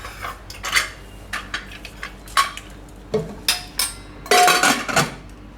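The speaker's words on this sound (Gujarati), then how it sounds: "હવે કુકરનું ઢાંકણું બંધ કરી દઉં." Several sharp metallic clanks and clatters of a pressure cooker lid being fitted and closed over dal, loud and close, ending in a longer rattling burst.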